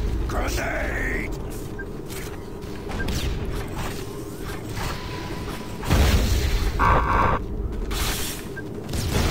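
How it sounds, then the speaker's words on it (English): A grenade explodes in Enemy Territory: Quake Wars amid steady battle noise and player chatter, with one loud boom bursting out partway through that stands above the ongoing gunfire and rumble. "Grenade!"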